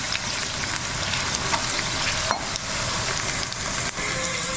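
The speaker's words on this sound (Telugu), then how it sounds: "ఒకసారి మిక్స్ చేసుకొని చూసారా ఇలా ఆనియన్స్ అయితే ఫ్రై అవ్వనివ్వాలి." Onions frying with salt in a hot pan, a loud crackling sizzle that runs without pause and has a few light scrapes of stirring, heard close with no speech.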